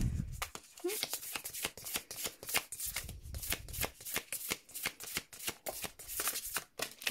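Goddess tarot cards being shuffled in steady, rapid riffling bursts that run almost continuously and sound close and crisp, with a person talking over the shuffling.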